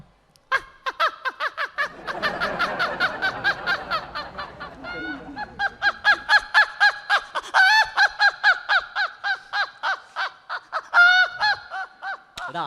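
A man imitates a rooster laughing after being tickled. He lets out a long run of loud, rhythmic honking cackles that start in a burst and then continue in quick regular pulses. No other sound accompanies him.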